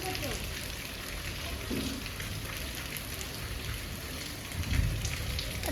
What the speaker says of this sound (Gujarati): ચાલુ વરસાદમાં